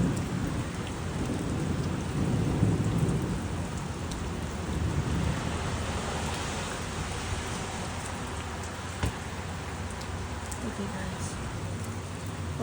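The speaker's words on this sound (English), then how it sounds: "another thunder" Heavy rain pours steadily outside an apartment during a thunderstorm, with a deep rolling rumble of thunder building early on beneath the constant hiss of falling water.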